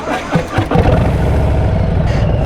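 A motorcycle engine idles and then pulls away in first gear as the clutch is slowly let out, giving a steady, close, mid-pitched rumble that grows louder and holds even after a few brief bumps at the start.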